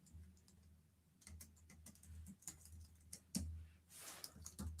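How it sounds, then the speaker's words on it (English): Quiet, rapid keystrokes on a computer keyboard while coding a Node.js bot, irregular clicks in bursts, close but faint, with no talking. "Wow, my typing today."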